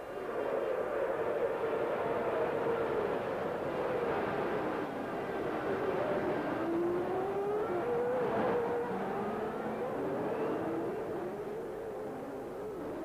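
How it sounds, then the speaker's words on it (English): Formula One race cars from the 1993 season at a race start, a continuous high engine whine from several cars with pitch rising and falling, steady and somewhat distant, with no talk. "At the start, Prost got away cleanly in the lead"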